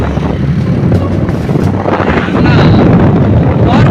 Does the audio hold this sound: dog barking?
no